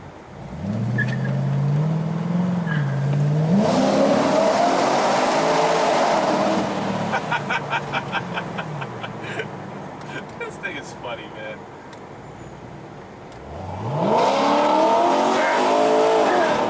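A modified Chevy Caprice police car engine with open headers revs loudly, drops to a crackling, popping idle, then roars up again near the end; someone speaks briefly.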